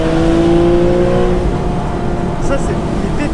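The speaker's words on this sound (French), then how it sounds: "Ça c'est les pétarades, c'est vraiment pas commun." A Porsche 991.1 4S Cabriolet engine revs with a loud rising drone that fades back, followed by a few sharp exhaust pops and crackles, with people talking over it.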